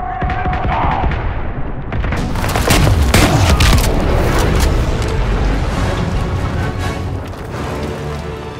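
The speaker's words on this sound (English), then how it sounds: "Grenade!" A grenade detonates in a Call of Duty: WWII battle, a loud close boom with a long rumbling tail that sits over continuous gunfire and chaotic combat noise.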